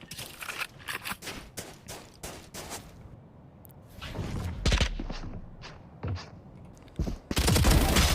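Rapid gunfire bursts from a Valorant esports match, sharp cracks and rattling volleys repeating across the clip with thuds and a denser fusillade near the end, loud and up close.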